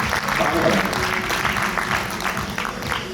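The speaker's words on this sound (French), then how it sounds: "Applaudissez." An audience at a conference on the health crisis claps steadily, a dense, continuous burst of applause close by with faint voices underneath.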